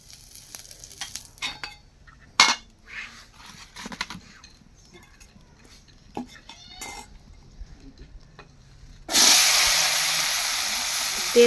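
Dried beef jerky frying in oil in a pan, with scattered clinks of utensils and quiet gaps before a loud steady sizzle takes over near the end.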